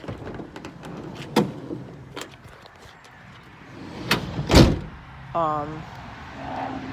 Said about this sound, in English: I don't think I closed that door properly.